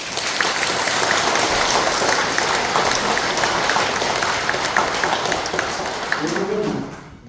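Full audience applause at a Korean Buddhist temple ceremony, steady dense clapping from a large congregation that tapers off at the very end, with a brief voice faintly audible as it fades.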